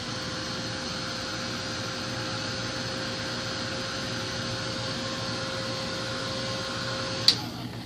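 A handheld heat tool blows continuously to heat-set stamped archival ink on paper, a steady close whirring drone that switches off near the end with a short click.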